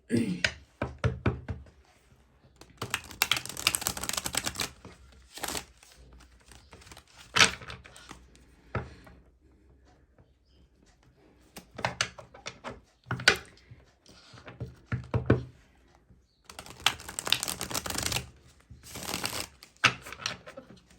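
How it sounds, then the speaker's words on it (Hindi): Tarot cards drawn from a deck, with bursts of crisp shuffling riffles, slaps and taps on a surface, separated by quiet gaps across the stretch. "इसी तरीके से अब मैं यहाँ से भी कार्ड्स निकालूंगी"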